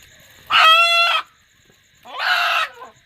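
A rooster crows during an outdoor Hindu ritual offering. Two loud, close calls are separated by a pause: a long harmonic crow followed by a shorter, rougher call.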